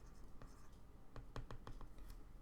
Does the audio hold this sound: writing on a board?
yes